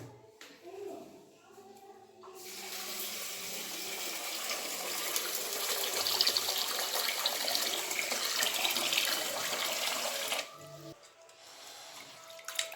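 Water running steadily from a tap into a vessel for rinsing and soaking rice and toor dal in a home kitchen, a continuous close splashing gush lasting about eight seconds, with softer handling noises before and after.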